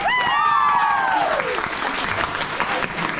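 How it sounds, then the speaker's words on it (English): An audience breaks into loud, close applause at an Irish music and dance performance with fiddle, step dancing and guitar; a sharp falling whistle rings out at the start before the clapping carries on steadily. "Big round of applause for Kieran on the shoes."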